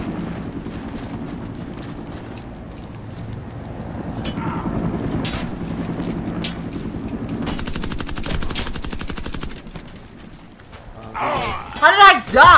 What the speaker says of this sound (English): Dude, you shot me a few times.